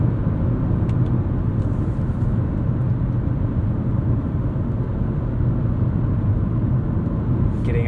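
A 2003 Lexus GS 300 with a five-speed automatic picking up speed, heard from inside the cabin as a steady, smooth low engine and road rumble with no breaks.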